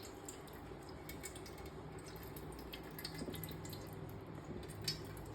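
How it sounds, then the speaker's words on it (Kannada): Water trickles and drips quietly as minced meat is strained through a filter in a home kitchen, a soft, continuous dribble with small splashy drops and no talk. "ಅದಕ್ಕೆ ನೀವು ಫಿಲ್ಟ್ರ್ ಮಾಡಿ ನೀರು ಚೆಲ್ಲಬೇಕಾಗತ್ತೆ"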